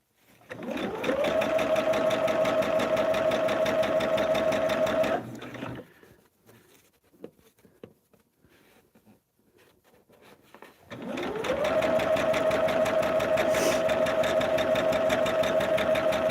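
A sewing machine stitches quilt fabric in two long steady runs of fast whirring, rhythmic needle thumping, loud and close, with a quiet gap of faint handling noise between the runs.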